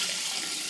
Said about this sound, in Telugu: 1 కప్పుకి 2 కప్పుల వాటర్ చొప్పున ఎసరు పోసుకుందాం